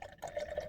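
Water pours into a coffee maker reservoir inside a van in the desert, a faint, brief filling trickle with a rising tone, close by.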